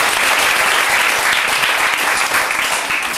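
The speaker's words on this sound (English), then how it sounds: "Round of applause for the leg" A studio audience on a TV show clapping after a frog leg muscle demonstration, a loud, dense burst of applause sustained throughout.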